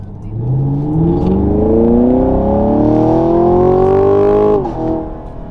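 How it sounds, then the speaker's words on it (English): A Ford Mustang GT500 sports car with its stock exhaust accelerates hard, its engine note climbing steadily through the revs, loud and close, then easing off at the end. "So that's what the stock exhaust sounds like."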